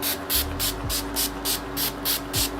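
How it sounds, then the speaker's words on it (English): Wet n Wild Photo Focus Rose setting spray hisses from a pump bottle in a rapid series of about nine short, even bursts, close and loud with no talking. "Oh, I did not know that was going to spray that hard."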